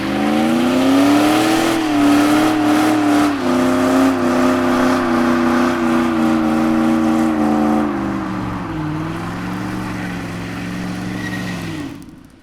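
A Volkswagen Golf GTI engine revs loudly and close by, its pitch climbing and dipping through several throttle blips before settling into a lower, rougher idle and cutting off at the end, with no voices.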